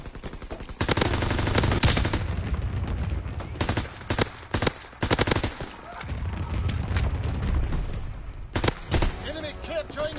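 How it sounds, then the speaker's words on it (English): Anti-aircraft fire in a WW2 video game battle rattles out in loud, rapid bursts and volleys separated by brief lulls, with voices faintly underneath. "Enemy anti-aircraft fire."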